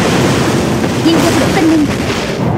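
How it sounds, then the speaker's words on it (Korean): Artillery bombardment in the action game Closers comes as a dense, loud, continuous roar of blasts and rumble that fills the whole moment, with faint tonal effect sounds riding on top. "포격 개시"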